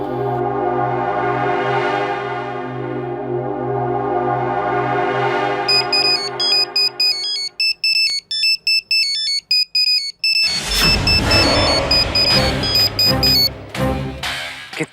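A phone ringtone plays loudly in a drama scene, a sustained tonal melody that gives way to bright repeating beeps and then a busy musical stretch, with no one talking over it.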